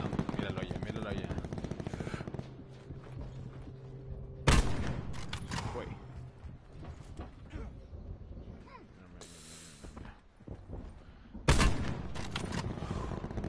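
Gunfire in Call of Duty Blackout, with bursts of automatic fire and sharp single shots cutting in and out against a dense game soundscape, loud and close, while players talk.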